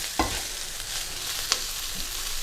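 Chili powder being stirred into chili con carne frying in a pan, a steady soft sizzle with a few brief utensil knocks and scrapes, close and moderate in level, no talking.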